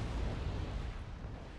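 Mortar fire in the wargame Wargame: Red Dragon, a dense, low, rumbling boom that fills the whole moment and fades slowly without any talk over it.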